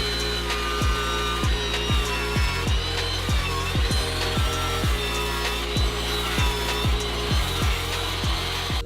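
A table saw runs steadily nearby while wood pieces are ripped, with a constant motor hum and repeated short cutting strokes in a regular rhythm, no talk.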